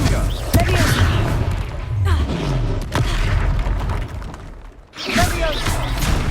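The Confringo fire spell in the game Hogwarts Legacy goes off amid combat, with loud booming blasts and crashing impacts, a brief lull, then another burst, while in-game voices shout over it.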